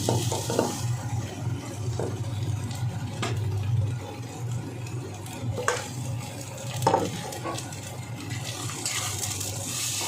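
Boiled potato being stirred with cauliflower in a pan for cauliflower paratha filling, with a steady low sizzle and scattered scraping and clinking of a spatula against the pan, close by and with no talk.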